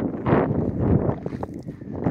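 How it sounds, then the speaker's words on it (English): Wind gusts buffet the microphone at a roadside rock cut, irregular rough bursts of blowing noise that swell and fade over a couple of seconds. "Hope you can all hear me with this wind going on."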